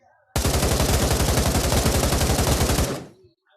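Rapid automatic gunfire from a favorite gun in the Pavlov shooting-range video game, a loud continuous burst of closely spaced shots lasting about two and a half seconds before cutting off.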